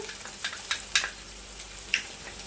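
Onion, garlic and Scotch bonnet pepper sauté in a pan, a soft steady sizzle broken by light crackles and small pops, with no voice over it.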